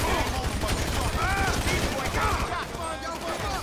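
Rapid bursts of gunfire and shots in GTA 5, dense and continuous throughout, mixed with game noise and some overlapping voices.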